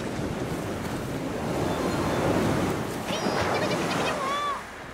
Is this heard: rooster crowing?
no